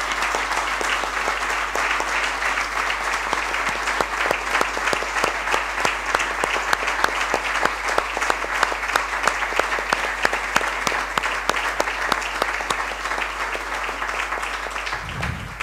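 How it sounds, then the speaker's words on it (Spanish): Sustained audience applause at a police awards ceremony in Puerto de la Cruz, many hands clapping in a dense, even roar over a constant low hum, lasting well over ten seconds before a brief thump at the end. "Un aplauso, por favor, para nuestra policía local."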